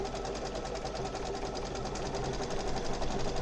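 An embroidery machine stitches a patch using its built-in frame, giving a steady, fast mechanical whir and rattle that runs without a break at moderate loudness, with no voices.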